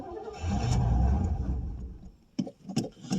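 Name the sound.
1989 Pontiac Safari wagon engine trying to run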